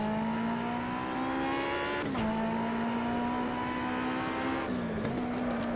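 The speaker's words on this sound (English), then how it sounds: "this car sounds nice on the downshift" Race car in the Automobilista sim, a knock-off Camaro in Aussie racing at Adelaide, droning engine note held steady with distinct downshift blips where the pitch dips and rises, loud and continuous.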